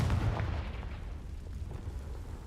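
A Confringo fire spell explodes in Hogwarts Legacy, a deep booming blast that rumbles and decays over a couple of seconds with no talking.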